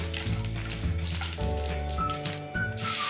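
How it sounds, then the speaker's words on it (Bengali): Bay leaf, dried red chilli and whole cumin crackle and sizzle in hot mustard oil, a steady close hiss of frying under background music, with no talking. "এগুলো জাস্ট 30 সেকেন্ডস মতো ফ্রাই করে নেব।"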